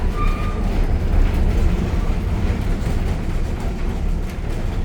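Steady low rumble and rhythmic clatter of a train riding on rails behind steam locomotive No. 2024, heard up close as continuous loud rolling noise without a break.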